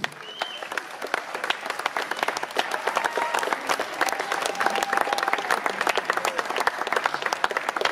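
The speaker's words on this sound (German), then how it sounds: "Die Siegerung für Platz 3 und das ist dein Applaus." A crowd at the Rheinbach Classics Miss Petticoat contest applauds the third-place winner with steady, sustained clapping throughout, moderately distant, with light crowd noise beneath.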